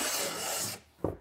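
A hand plane rasps along glued wood strips for a paddle board in one long smooth shaving stroke, followed by a short pause and a brief knock as the tool lifts.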